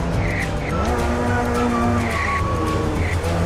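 A Lamborghini in a video game driving hard and skidding, with a loud, continuous engine drone and repeated tire squeals rising and falling over a few seconds, close and without talk.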